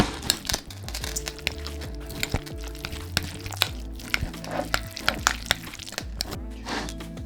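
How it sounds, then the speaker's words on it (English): A spoon scrapes and clinks in a bowl while a potato salad sauce of herbs, onion and pickle is mixed, making many irregular close taps and rattles with a steady low hum beneath. "Now mix it together."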